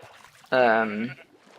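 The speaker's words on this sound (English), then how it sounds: "Here are those two sheep" A single sheep in the video game Minecraft gives one clear, close bleat lasting under a second against a quiet background.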